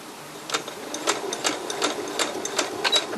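A sewing machine stitches oven mitt fabric in quick, even runs of close mechanical clatter, about ten rapid bursts at a steady rhythm with no voices.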